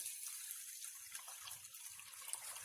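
Water pours steadily into a bottle holding salted hot peppers being pickled. The stream gives a soft, continuous hiss and gurgle, faint and close, with no talking.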